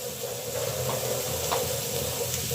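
Radish goes into a hot pan with salt, turmeric and spices for a village-style radish fry with egg, raising a steady close sizzle and hiss with faint stirring knocks underneath.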